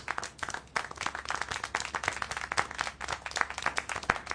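Scattered hand clapping from a small audience, uneven bursts of claps over about four seconds, fairly close and moderately loud with no talking.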